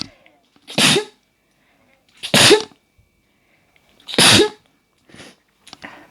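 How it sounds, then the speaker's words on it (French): A woman sneezes three times in quick succession, each a sharp loud burst about one and a half seconds apart, followed by a couple of quieter breathy sounds, with no other sound between them. "Excusez-moi, je vais éternuer."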